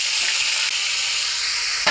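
Onion, garlic and cumin paste fry in cooking oil with a dense, constant sizzling hiss, close and loud, ending with a brief bump.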